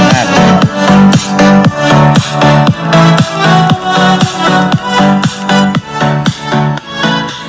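Upbeat music with a punchy, bass-heavy beat plays steadily from a small JBL Clip 3 Bluetooth speaker, filling the space at close range with no talking.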